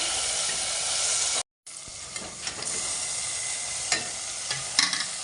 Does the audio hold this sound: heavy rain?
no